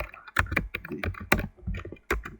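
Keys on a computer keyboard are tapped in a quick, uneven string of crisp clicks while a short word is typed into a birthday graphic design, close and clear with no talking.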